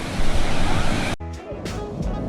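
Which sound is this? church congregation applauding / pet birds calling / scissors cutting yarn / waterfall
waterfall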